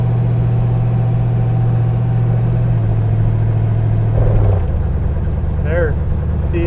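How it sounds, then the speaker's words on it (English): A low, steady engine drone of a Plymouth Road Runner in overdrive lockup labors at a slow, heavy pace, the engine barely turning, then its pitch drops and settles near the end, with faint background voices. "you can hear it chugging. It's because it's on lockup and the engine's hardly going"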